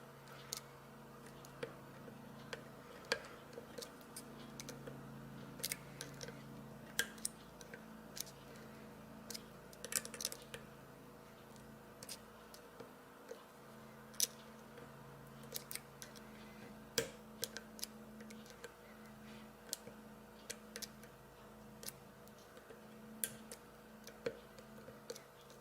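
Picking a lock core, faint sparse metallic clicks and ticks spread irregularly over a quiet steady background, with no talking.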